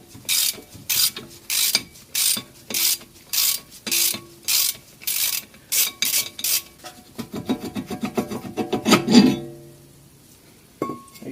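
A bolt threaded into a jack screw hole on a Porsche 928 rotor is turned by a ratcheting tool, producing a steady series of loud rasping clicks about every half second, close by, that speeds up and ends in a grinding clunk.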